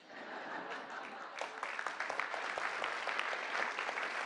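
Applause from an audience at a signing event, a steady, dense clatter of many hands clapping throughout, fairly distant and continuous with a few sharper claps standing out, no talk over it.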